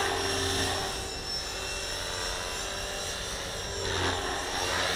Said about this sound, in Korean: 내가 헬기 입문할 때 제일 큰 크게 본 기체가 이건데.